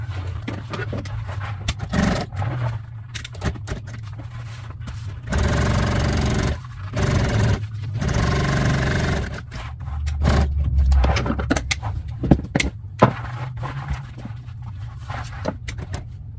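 A sewing machine top-stitching vinyl upholstery for an RV motorcoach seat, with loud whirring runs of stitching broken by pauses, handling scrapes and knocks in between.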